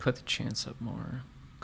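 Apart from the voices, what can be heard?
No distinct noise like a dog, phone or traffic.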